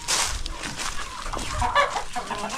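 Young rooster on a farm clucking softly and quickly at close range, a short burst of throaty calls over a faint background.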